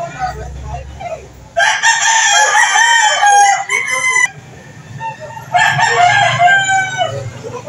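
Several roosters crow loudly at a chicken market in Lipa City, Batangas, with two long bursts of overlapping crowing over a low hum of background chatter and clucking.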